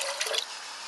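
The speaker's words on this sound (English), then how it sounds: "Now add 2 cups of water" Water pours into a pot of apple cider vinegar for a pickling brine, a quiet, close, brief splashing trickle that fades into a soft steady hiss.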